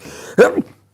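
A single short, sharp sneeze bursts out abruptly in a quiet room, close and fairly loud, then trails off quickly into silence.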